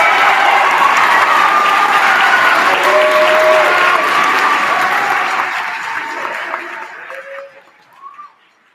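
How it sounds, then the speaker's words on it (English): Crowd at a West Clermont High School band concert applauding loudly and steadily, with a few whistles and cheers, before the clapping thins and trails off near the end. "So a big round of applause."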